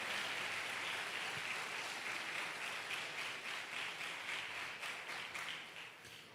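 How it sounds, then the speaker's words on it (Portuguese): A church congregation claps in a sustained, dense round of applause that fills the room, fading slightly toward the end with almost no talking. "Quem pode adorar, dê um aplauso ao Senhor."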